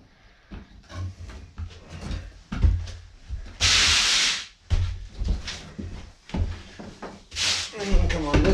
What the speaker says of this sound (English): start working your saw up to where you're cutting straight up and down